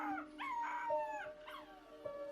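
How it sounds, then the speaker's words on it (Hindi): Several dogs howl in drawn-out, wavering cries that overlap and rise and fall, fairly faint and without any talk. "बच्ची के मुंह से कपड़ा हटाते ही कुत्तों ने रोना शुरू कर दिया और वहां से भाग गए।"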